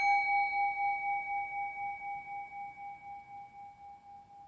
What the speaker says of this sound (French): Donc voici un bol tibétain.